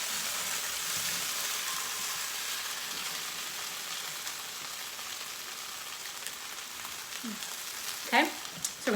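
Chicken pieces frying in a pan give a steady, soft sizzle like light rain, and a few short scraping strokes of a utensil against the pan come near the end.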